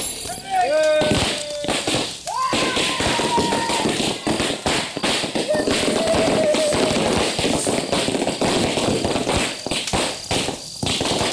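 Firecrackers pop in rapid irregular bursts, sharp cracks and snaps crowding one another, with whistling fizzes and voices of people nearby.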